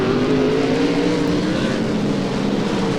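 Sprint car racing engines roaring steadily at high revs during a B main race, a loud continuous drone with a slight rising pitch, like cars circling a dirt track.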